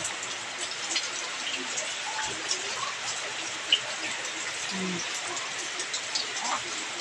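Typhoon flood water rushes and patters steadily in a continuous hiss as it flows around a house, with faint scattered splashes and occasional voices.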